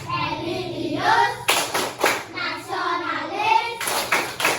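Schoolchildren clapping along to a rhythmic PPK clap chant in an Indonesian classroom, bursts of group clapping alternating with children chanting in unison, lively and close.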